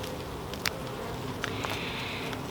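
Honey bees buzz close by at a hive brood frame where young bees are about to emerge, a steady soft hum with a few sharper passes of individual bees.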